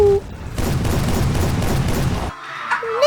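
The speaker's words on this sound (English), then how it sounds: "You're occasionally blessed with a Gatling gun turret section" A Gatling gun turret in a History Channel first-person shooter game fires one rapid roaring burst lasting nearly two seconds, loud and close, then cuts off to quieter game tones.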